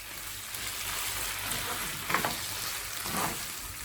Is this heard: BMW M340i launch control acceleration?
no